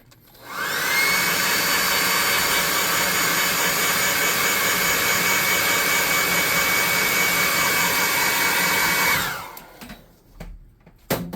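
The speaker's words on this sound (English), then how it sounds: "let's heat this up with the hot air gun and dry it off" Hot air gun blowing steadily to dry paint on a craft golem model, a loud continuous whooshing roar that starts abruptly, holds for about eight seconds, then cuts off with a brief quieter tail.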